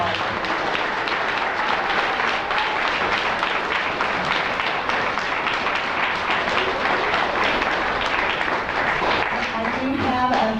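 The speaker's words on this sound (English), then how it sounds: "Let's give one more round of applause." A school assembly audience at a second-grade performance bursts into dense, sustained applause, loud and close, with many hands clapping steadily throughout and a few voices underneath.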